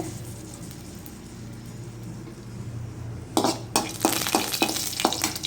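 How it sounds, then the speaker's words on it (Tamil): Mustard seeds and chili fry in hot oil in a pan, a steady sizzle that breaks into loud, rapid crackling pops as the seeds burst. "கடுகு பொரிஞ்சதும் ஒரு மிளகால கிள்ளி போட்டுக்கோங்க."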